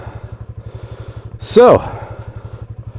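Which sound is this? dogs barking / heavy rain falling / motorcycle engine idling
motorcycle engine idling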